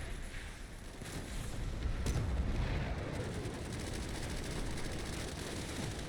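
Tank cannon fire from a mountainside ridge in Overwatch, shooting down onto a capture point: a dense, continuous wash of distant booms and crackling gunfire with a heavier blast near the two-second mark, no voices.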